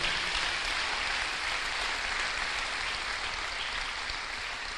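A church congregation applauds in a dense, continuous wash of many hands clapping at once, loud and steady for several seconds and easing slightly toward the end.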